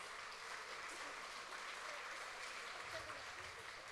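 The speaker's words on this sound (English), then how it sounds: "let's give them another round of applause" Faint, steady applause from a distant crowd at a princess pageant, an even wash of clapping that continues throughout without pause.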